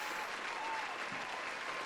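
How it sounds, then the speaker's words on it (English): A stadium crowd cheers and applauds as a sound effect during a tabletop game session, a dense steady roar of clapping and voices at constant loudness. "the entire stadium is on their feet cheering"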